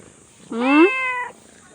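A single clear cat meow, close and fairly loud, rising then drawn out before fading into quiet.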